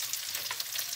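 Broccoli and onions stir-fried in a hot pan give a steady, close sizzle and frying hiss with faint stirring, heard alone with no talking.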